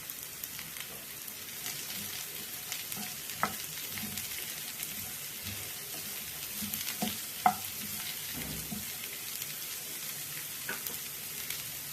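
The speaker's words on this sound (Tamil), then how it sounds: "பொடியாக நறுக்கணும் பீன்ஸை இது எண்ணெயிலே அப்படியே போட்டுருவோம்" Chopped green beans fry in hot oil with a steady crackling sizzle, punctuated by occasional clicks of stirring, close and fairly quiet.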